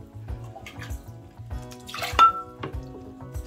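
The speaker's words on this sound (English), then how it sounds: "Let us dump out her old water and get her some new water." Old water is poured out of a glass jar holding a rootless phalaenopsis orchid, giving a short glugging splash and a light clink against a repeating low background pulse.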